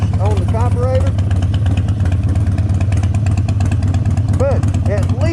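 A Harley-Davidson motorcycle engine idles close by with a steady low, lumpy throb after carburetor work. Voices talk intermittently over the running engine.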